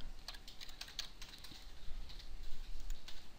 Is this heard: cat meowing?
no